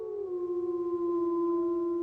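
A Druid pack wolf gives a single long, clear howl at night, a steady drawn-out tone that dips slightly at the start and holds for two seconds, fairly close and alone.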